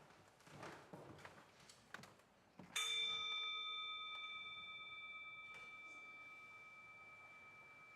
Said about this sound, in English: the sound of the gong can help us to focus